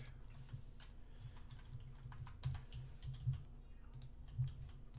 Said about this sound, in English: I have keyboard shortcuts specifically for this operation that you see what I'm doing here.